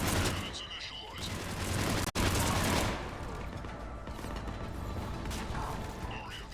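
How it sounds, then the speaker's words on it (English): Cannons initializing in the video game Mass Effect 3 give off clanking, ratcheting mechanical sounds and sharp metallic bursts, loud and layered over a busy battle din, with a brief cut partway through. "Cannons initializing."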